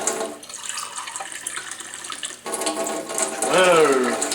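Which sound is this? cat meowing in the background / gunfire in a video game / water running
water running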